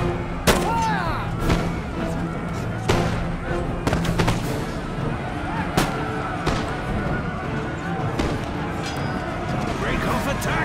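Musket volleys crack out across a Total War: Empire battlefield with the Thirteen Colonies, scattered sharp shots and bursts over several seconds, mixed with horse whinnies and shouted commands.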